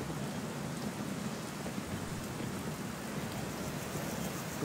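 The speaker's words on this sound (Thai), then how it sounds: "ฝนตกด้วยเดี๋ยวให้หมาเกินหญ้าก่อนโอ้โหเสียงฝนแรงมากเลย" Heavy rain pours steadily in a video game, a dense, loud, unbroken hiss of falling water filling the whole stretch with no voices over it.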